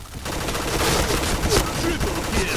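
Continuous gunfire from the Pink Dragon gun in the Point Blank video game, a loud, dense stream of shots with clattering bursts and game effects layered throughout.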